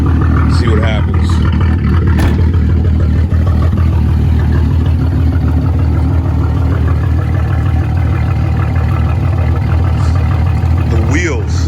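A turbocharged VR6 engine in a VW Mk3 drones steadily and loudly as the car drives along a street, a continuous low rumble with someone talking over it.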